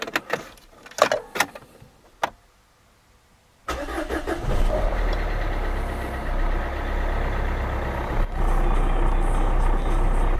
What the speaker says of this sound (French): maintenant il n'y a plus qu'à démarrer la voiture.